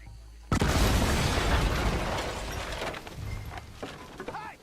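A loud explosion erupts abruptly in Red Dead Redemption 2, a heavy boom whose rumbling debris and crackle carry on for several seconds before slowly thinning out.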